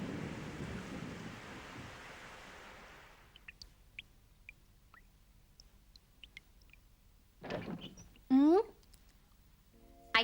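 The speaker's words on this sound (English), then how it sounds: "It started raining." Steady cartoon rain hisses loudly for the first few seconds of a stormy scene, then fades to near silence broken by faint scattered drips, followed by a short voice and a sharp tonal effect at the end.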